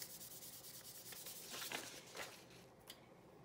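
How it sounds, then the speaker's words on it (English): Polymer clay is lightly burnished by hand to work a faux dichroic sunset effect onto its surface. Faint, close rubbing comes in soft uneven strokes, with no talking. "But first I'm gonna burnish lightly to get that sunset on there."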